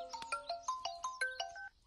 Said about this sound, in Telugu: ఇదిగో వాడే ఫోన్ చేస్తున్నాడు